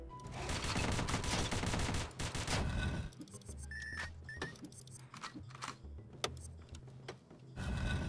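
Rapid gunfire bursts in the video game Dungreed, a dense stream of shots for the first few seconds, then scattered single shots and game effects before another burst.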